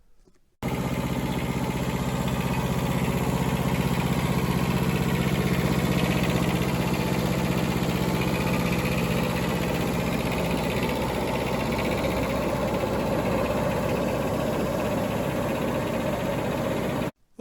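A small two-stroke engine runs on a welded mini power source, a steady, buzzy, unbroken drone close by and loud from start to finish, with no speech.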